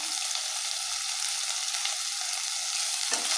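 Masala with turmeric frying in a pan for home-style chicken biryani, a steady close sizzle and crackle running throughout with faint stirring, no talk.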